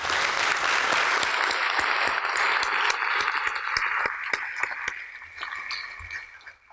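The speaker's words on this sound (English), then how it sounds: "we would all like to give her a round of applause" Applause from the audience at a college awards night, broad crowd clapping that starts full and gradually thins and fades toward the end, leaving a few scattered claps.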